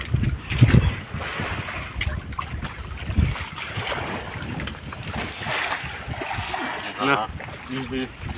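Strong wind gusts batter the microphone outdoors on the water while fishing, a continuous rough rumbling roar with voices talking underneath at times.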